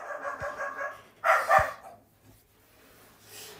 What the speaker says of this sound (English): And there goes the dog. The dog is celebrating with me.